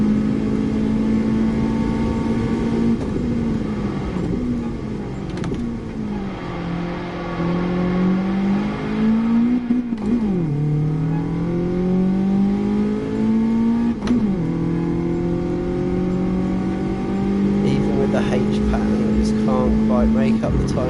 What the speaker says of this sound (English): Seems to get so bogged down in second, or in the start of third. Doesn't like to rev out.